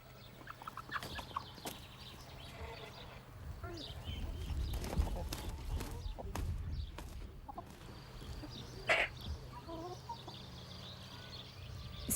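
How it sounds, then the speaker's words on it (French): A rooster crows among farm hens in a barnyard, with scattered clucking and other fowl calls over a steady low rumble. The crow rises clearly about three-quarters of the way through. "Le coq pousse son cri pour montrer qu'il est le plus fort sur son territoire"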